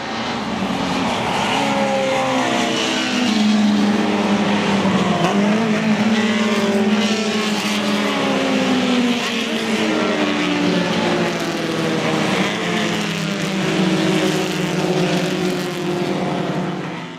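Vintage race cars scream past at Summit Point in West Virginia during an SVRA Blue-Gray enduro, a loud pack of engines with rising and falling pitch sweeps overlapping continuously as the field roars by under the bridge.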